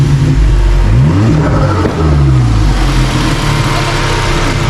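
A car engine, still cold, revs up close and loud, pitch climbing and dropping in a few bursts before settling back to a rough idle.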